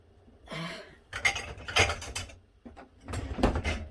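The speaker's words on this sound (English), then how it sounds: "Let me get my dishwasher and get me a cup out." A dishwasher rack rolls out with a short series of rattling, clattering bursts of metal and dishware, separated by brief pauses.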